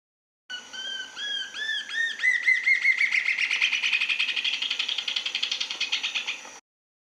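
Small birds call in Costa Rica: a run of bright, rapid chirps and tweets that start as separate notes and speed into a steady chattering trill, close and clear for about six seconds with no voices.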